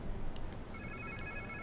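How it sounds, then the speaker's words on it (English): A phone rings in Marvel's Spider-Man 2 video game, a faint electronic trill starting partway through over a low rumbling game background, with no speech. "Sounds like somebody's phone."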